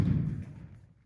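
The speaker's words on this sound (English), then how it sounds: "two big loud thuds just as we're setting up" A single heavy, low thud inside a church at night, with a dull boom that fades out over a second, with no talking.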